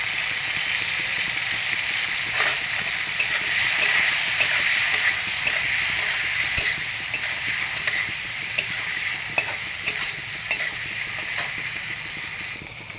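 Paneer cubes frying in a pan with turmeric give a steady, close hiss and sizzle that runs for the whole stretch, with small pops and crackles breaking through now and then. No one speaks.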